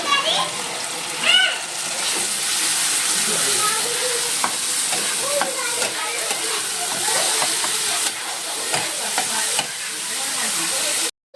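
A ginger, garlic and green chilli paste fries in a pan with a loud, continuous sizzle, broken by scraping stir strokes close by.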